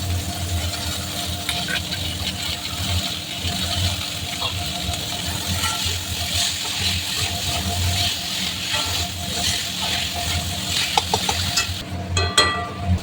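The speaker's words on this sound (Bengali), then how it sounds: "মটরশুঁটিগুলো একটু একটু শক্ত আছে, এটা দিয়েই কষাচ্ছি।" A steady sizzle and occasional scraping stir of peas being sautéed in a hot pan for ghugni, continuous and close, with a low background hum.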